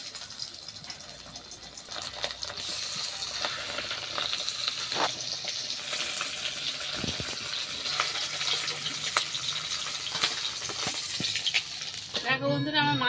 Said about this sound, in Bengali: আমি একটা একটা করে মাছ ছেড়ে দেবো তেলের মধ্যে।